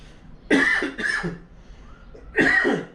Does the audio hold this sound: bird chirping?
no